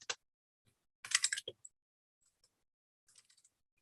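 Computer keyboard typing comes in short bursts of quick clicks: one tap, a dense flurry of keystrokes, then a few scattered presses, close and quiet with no speech.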